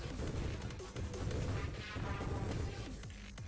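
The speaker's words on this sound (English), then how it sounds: "Look at the explosions, they just don't stop." Constant overlapping explosions in the space shooter Nova Drift, a dense, continuous barrage of booms and crashes with no pauses, fairly quiet overall and with no talk over it.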